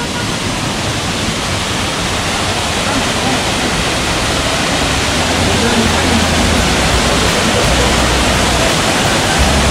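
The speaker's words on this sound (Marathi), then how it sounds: "आता हा धबधबा बघा फक्त." A monsoon waterfall on the Tahuli Peak trek near Kalyan roars as a loud, steady broadband rush of falling water, constant and close throughout with no voices.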